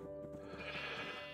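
A sheep in Minecraft, modded as Tolkien Craft II, gives a short bleat, clear and close, with a wavering, nasal tone under faint background sound.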